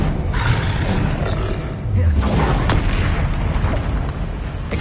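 Bombarda spell explosion in the Hogwarts Legacy video game amid hectic spellcasting combat, loud rumbling booms and roaring blasts with a shouted voice over continuous heavy battle noise.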